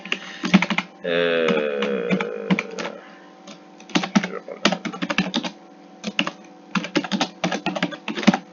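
Fast clicky typing on a computer keyboard in irregular bursts of keystrokes, close up, with a brief electronic tonal sound partway through.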